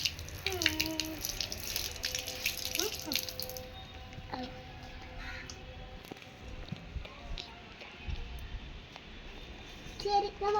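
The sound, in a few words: water running while washing something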